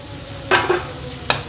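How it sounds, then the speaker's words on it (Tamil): Fried potatoes are stirred into sizzling masala in a pan for a kids' lunch box dish, with two quick scraping clatters of a spoon against the pan over a soft background hiss. "அடுத்ததாக நம்ம இதில் ஃப்ரை பண்ணி வச்சுருக்கிற பொட்டேட்டோவை உள்ளே சேர்த்துக்கலாங்க."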